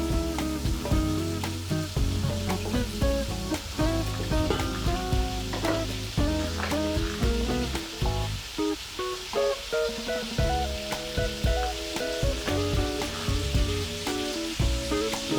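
Ghee melts in a pan on high heat for a sweet rice dessert, sizzling steadily with occasional stirring scrapes, over background music.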